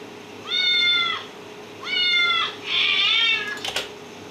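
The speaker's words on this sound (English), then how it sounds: "The second noise I've got is some little cat mews." A small cat mews three times in a row, each a drawn-out, high, plaintive call, close and clear against a quiet background, with a brief rustle at the end.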